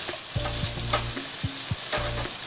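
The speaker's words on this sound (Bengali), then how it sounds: "এখন আবারো মিনিট দুয়েক ধরে আমি এগুলোকে নাড়িয়ে নিয়ে দিয়ে দেব পেঁয়াজ বাটা" Veg biryani masala frying in a pan, with steady sizzling broken by repeated scraping stirs of a spatula against the metal, close and moderately loud.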